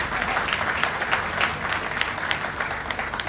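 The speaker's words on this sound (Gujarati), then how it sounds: "આમના માટે એકવાર જોરદાર તાળીઓ પાડશો." An audience at a celebration event applauds, a dense and even wash of many hands clapping at moderate volume that holds steady throughout.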